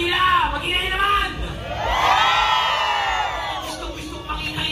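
An outdoor crowd at the Taste of Manila 2025 festival shouts, whoops and cheers in loud overlapping waves, swelling into a sustained yell midway before easing off, with voices close and distant mixing together.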